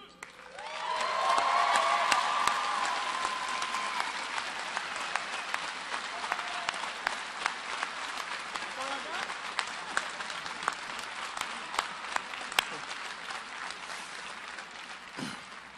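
A large crowd at an engineering commencement ceremony claps and cheers for family members, a broad sustained wave of applause swelling early with a few whoops, then continuing steadily at a slightly lower level.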